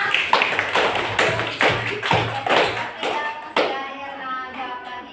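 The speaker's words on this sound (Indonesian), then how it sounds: "Kita berikan aplaus untuk adik Erna." Applause in a classroom, rendered as a short run of sharp claps and taps, fairly close and loud, in uneven bursts across the clip, with no talk over it.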